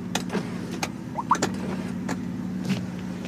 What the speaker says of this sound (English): Sunroof makes noise.